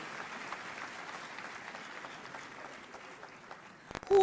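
Audience applause at an investiture ceremony for a university Vice-Chancellor at KNUST in Ghana: steady, dense clapping from a large crowd, fairly soft and distant, ending with a brief louder burst.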